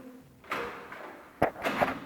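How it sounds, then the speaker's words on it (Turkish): Close, muffled sliding and a sharp knock, followed by another scraping movement, like a door being worked open with some effort. "kapıyı açmakta zorlandım birazcık"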